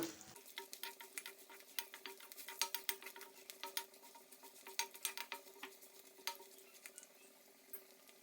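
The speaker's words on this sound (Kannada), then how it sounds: "ಎಲ್ಲ ಫ್ರೈ ಆಗ್ತಿದೆ" Coconut pieces frying in oil in a pan for khara pongal, a soft crackle with frequent small pops and light stirring scrapes, faint and close without talk.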